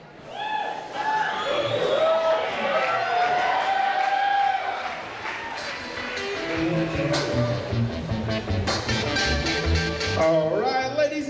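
Wedding guests at a reception cheer and whoop through the grand entrance, a steady loud crowd noise under music and scattered voices.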